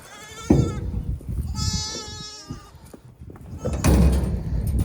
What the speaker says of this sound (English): All the little lambs